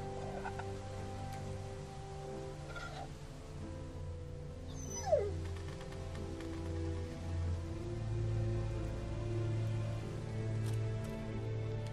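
A dog whimpers in The Walking Dead: Season 2 video game, soft whines over a steady low ambient hum and patter, with one brief sharper yelp midway.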